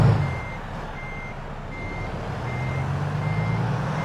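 A truck in the game American Truck Simulator backs up, its reversing alarm beeping in a slow, even series over a low idling engine rumble, with no talking.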